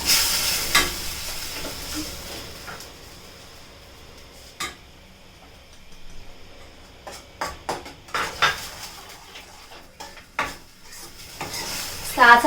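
A spoon stirs homemade yogurt and turmeric in a cooking pan, giving soft scraping and light clinks with faint sizzling, in irregular bursts at close range and no talk.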